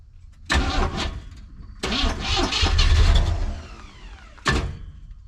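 Engine of a long-sitting 1979 Chevrolet C10 pickup being tried with the clutch dumped: three separate loud, close bursts of cranking and sputtering, the middle one longest, with near-silence between them.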